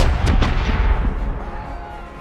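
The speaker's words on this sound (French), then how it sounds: "Prépare les boulets de canon pour la bataille." Cannon fire from a pirate ship in a video game: two sharp booming shots in quick succession over a loud, rumbling battle background, then a fading roar.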